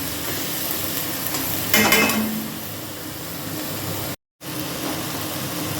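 Drumstick flowers for a Bengali bharta stirred and fried in a pan with a little sugar, giving a steady close sizzle with scraping stir strokes, a louder burst midway and a short silent break near the end.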